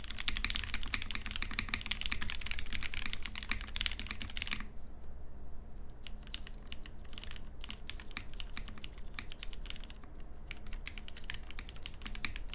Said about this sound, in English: I can bottom out and then let go and know that the upstroke clack isn't gonna be very sharp to the ear